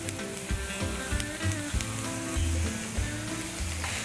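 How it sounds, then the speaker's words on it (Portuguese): Fresh shimeji mushrooms sizzle and fry in a hot pan for a pasta sauce with coffee, a steady close crackle with slight stirring movements throughout and no talking. "O shimeji, olha, é o shimeji fresco, tá? E aí agora vamos acrescentá-lo."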